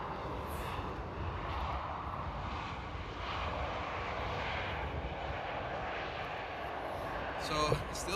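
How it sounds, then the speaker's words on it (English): An Airbus A320 airliner at Paris Charles de Gaulle airport roars with a steady, broad jet-engine rumble that holds constant throughout, heard from a distance across the field. "It's the Airbus A320 now."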